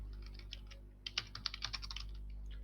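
Someone types a search into Google on a computer keyboard, producing a quick run of crisp, close key clicks that stop briefly and then resume with sharper, louder taps, over a steady low hum and no talking.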